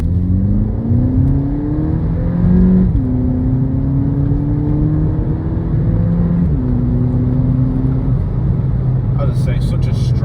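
Volkswagen AW GTI accelerating hard through the gears, the engine note rising steadily, dropping at each upshift and climbing again, loud and close throughout.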